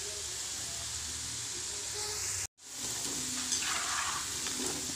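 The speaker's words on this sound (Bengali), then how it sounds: "একটু ভাজা হয়ে যাও তো আরও মজা হইব।" Food fries in a pan with a steady bright sizzle and hiss throughout, briefly cut off by a short gap midway before the frying resumes at the same close, even level.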